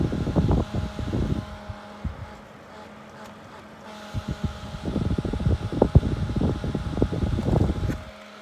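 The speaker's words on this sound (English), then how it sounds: "Pretty good extractor fans for pretty good extraction" Extractor fans running on holiday in Woolacombe, Devon, a close steady whirring hum with fluttering, buffeting air noise and rattles, fairly loud and alone.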